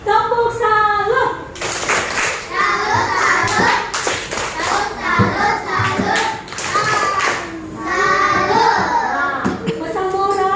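Classroom children performing the tepuk salut clapping routine, rhythmic bursts of group hand claps interleaved with chanted young voices, loud and close, pausing and resuming in patterned sections.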